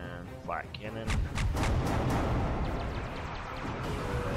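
A flak cannon fires in the space strategy game Halcyon 6, a run of heavy booming blasts that rolls into a sustained rumbling barrage.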